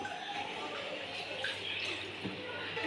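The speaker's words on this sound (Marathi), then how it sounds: "याच्यामध्ये आपण थोडंसं पाणी ॲड करून घेऊ" Steady pouring water runs continuously for the whole stretch, a close, even splashing stream like water filling a pan of frying chicken.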